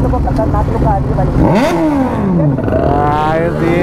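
A superbike engine revs at a riders' meet-up, rising sharply to a high whine then falling back, with people talking loudly over the engine noise.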